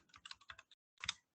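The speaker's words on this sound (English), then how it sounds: "Let's say now I type in here" Quick bursts of keystrokes on a computer keyboard, a short run of soft clicks, a brief pause, then a final cluster of taps, quiet and close with no talking.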